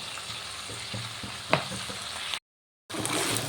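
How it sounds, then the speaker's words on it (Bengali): Bean and potato curry being stirred in a pan after crushed bori and peanuts go in, a soft continuous sizzle broken by a few scraping spoon knocks, then a brief dropout of silence before the frying noise returns. "দিয়ে সব কিছু ভালো করে নেড়ে নেব যাতে সব তরকারিটার সাথে বড়ি আর শিম এই বড়ি আর বাদাম ভালো করে মিশে যায়"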